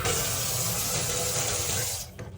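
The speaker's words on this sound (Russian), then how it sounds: "Напор воды, вы просто сейчас ахаете." Steady, forceful high-pressure rush of running water from a kitchen faucet in an apartment in Osh, loud and continuous, cutting off abruptly near the end.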